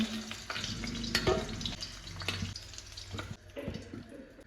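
Potato pieces fry in hot oil, a soft low sizzle with a few clinks and scrapes from stirring, fairly faint and close with no talking.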